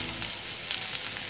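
Chopped onions with a pinch of salt sauté with garlic in a hot pan, giving a steady, close, crackling sizzle without a break.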